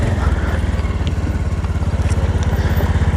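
A motorbike engine runs steadily while riding along a hill road in Dhading, with a loud, close, rhythmic low chugging throughout.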